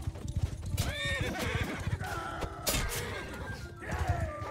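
Cavalry horses in a medieval battle video game, hooves clattering in rapid galloping clip-clops with loud whinnies and neighs rising over the din of combat.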